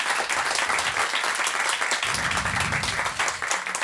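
A studio audience on a French morning radio show bursts into loud, sustained applause, many hands clapping at once in a dense, continuous roar.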